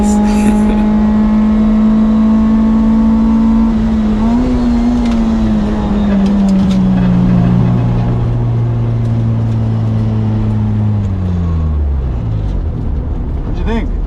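A 1988 Honda CRX Si with a B16A engine races down a track straight, its engine holding a steady high drone that climbs and drops through gear changes, loud and close throughout.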